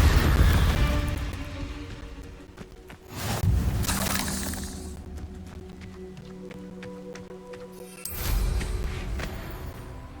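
A Confringo spell blast cast in Hogwarts Legacy, heard as a sharp shattering burst followed by a decaying rumble, then a second loud impact near the end, with no talk.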